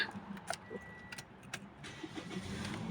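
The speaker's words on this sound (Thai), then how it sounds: "มาเดี๋ยวหนึ่งสตาร์ทรถนะคะ" A Toyota Vios used car is started: a few soft key jingles and clicks, then a low engine turning over, all quiet and without voices.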